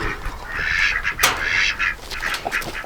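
Farm ducks at a barn quack loudly and continuously in a close, crowded chorus, calls overlapping with short sharper honks breaking through.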